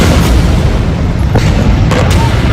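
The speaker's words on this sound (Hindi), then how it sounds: "बम के धमाके में मारे जाएंगे।" A bomb explosion in a war zone rolls as a loud, continuous deep rumble with a few sharper bursts on top, filling the whole short stretch.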